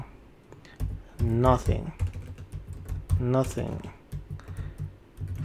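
Fast clicking keystrokes on a computer keyboard tap along under a voice that speaks briefly twice, the typing close and steady throughout.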